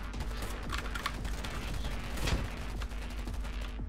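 Rapid pistol fire from an M1911 in the shooter game Polygon, a dense run of sharp close shots with some mechanical clicks, and one louder crack in the middle.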